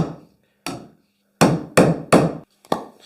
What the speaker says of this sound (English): I'm just going to put the bolt over the top and tap it in